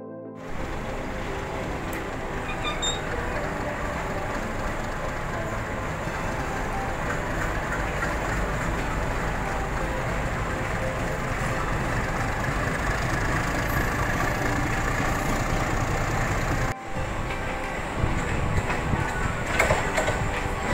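A Mumbai local train runs steadily with a continuous loud rumble and rattle heard from inside a carriage, broken by a short jolt near the end, with no talking.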